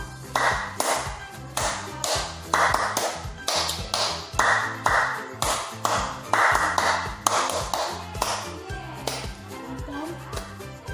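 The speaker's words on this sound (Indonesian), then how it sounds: "bersiap-siap untuk mengikuti pola tepukan tangannya Bunda ya" A teacher claps out a rhythmic hand-clapping pattern for a kindergarten lesson: close, crisp claps repeating in regular groups with short pauses between, over a soft low background tone.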